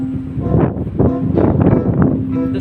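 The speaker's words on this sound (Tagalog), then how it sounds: "Naging hangin." Gusty wind by the sea at Santa Cruz, Davao del Sur, buffeting the microphone in loud rumbling surges with a steady low hum underneath.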